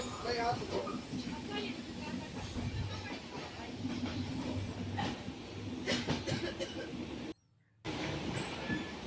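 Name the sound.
express train running alongside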